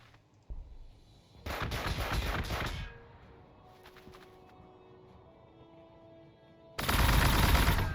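Gunfire from Warhammer 40,000: Gladius, a turn-based strategy game with T'au units: two loud bursts of rapid automatic fire, one early and one at the end, with quieter ambient game sound between them.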